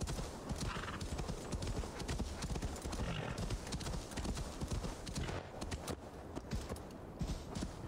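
Horse hooves clip-clop in a quick steady rhythm while riding in Assassin's Creed Valhalla, loud and continuous throughout, with a whinny near the start and faint game ambience behind.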